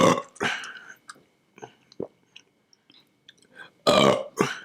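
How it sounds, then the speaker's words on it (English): Loud, drawn-out burps from a person during a sushi mukbang, two big bursts at the start and a double burp near the end, with faint eating and mouth sounds in between. "Oh, you burp on camera?"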